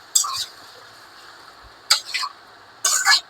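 Pointed gourd and potato stirred in a hot pan with spices during a fish-and-gourd curry preparation, with three short bursts of scraping, sizzling spatula strokes separated by quiet gaps, close and crisp.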